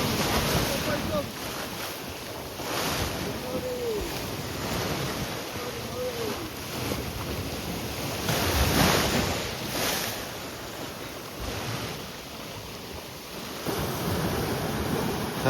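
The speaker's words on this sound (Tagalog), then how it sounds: "lumakas yung alon" Ocean waves surge and wash continuously off the coast of Ilocos Norte, Philippines, with steady wind rumble and swells rising and falling over the length of the clip.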